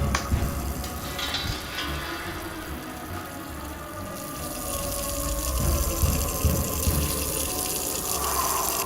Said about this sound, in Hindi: ये पानी गिरने की आवाज कहाँ से आ रही है?